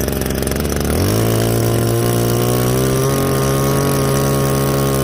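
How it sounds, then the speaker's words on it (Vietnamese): A Japanese 21cc brush cutter engine catches and settles into a loud, steady, buzzing drone that runs close and unbroken after a brief lower start. "máy nổ thì rất ngon"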